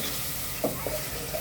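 Kolhapuri masala roasts in a pan with a steady soft sizzle, a couple of faint scraping stirs breaking through the hiss, close by and fairly quiet.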